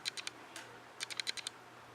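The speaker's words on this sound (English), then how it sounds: "if you guys hear that clickety clack noise, I apologize. My camera settings got off, so I'm using the automatic feature" Rapid clickety-clack of a camera left on its automatic setting, a few light, crisp clicks followed by a tight burst of ticks, faint and close against quiet room tone.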